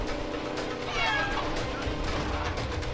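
A cat meows in a short, clear rise and fall near the mic, over the steady din of a Medal of Honor: Warfighter war game, with a voice speaking under the mix.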